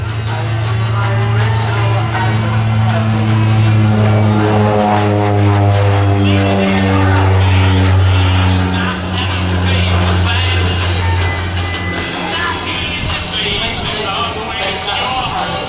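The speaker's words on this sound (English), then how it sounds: "in here, the North American OV-10 Bronco" A North American Rockwell OV-10 Bronco, registration G-ONAA, flies past at the Midlands Air Festival. Its twin propellers give a loud, steady drone with harmonics that slowly slide in pitch as it passes fairly close.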